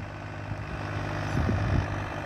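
Steady low diesel drone of a Mahindra 265 tractor pulling a plough in a field, a continuous mid-level hum with slight pulsing surges near the end, no voices.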